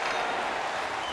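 Hockey arena crowd in NHL 22 during a tied game, a steady broad roar of cheering and applause filling a short stretch without pause.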